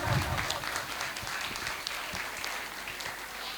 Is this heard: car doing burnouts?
no